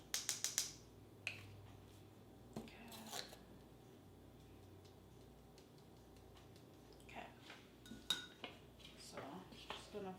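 A spatula folds baking powder into gooey chocolate brownie batter in a bowl, giving quiet, intermittent scrapes and light clinks against the bowl, with small clusters of sounds at the start and toward the end.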